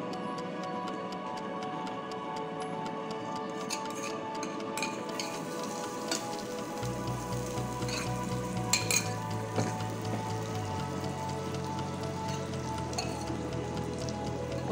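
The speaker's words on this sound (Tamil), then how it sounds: "அப்புறம் நம்ம பக்கத்தில் பன்னீர் ஃப்ரை பண்ணி எடுத்துடலாங்க" Paneer fries in a pan with oil and butter, giving a steady close sizzle with occasional clicks and taps of a utensil throughout, and no talk over it.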